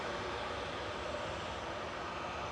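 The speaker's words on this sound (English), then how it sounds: "Next up is EasyJet flight 727 heading over to Jersey. This is GEZGX, another A320 Classic." An EasyJet Airbus A320 airliner at Manchester Airport gives off a steady, broadband engine roar at moderate distance, a continuous even rush with no talking.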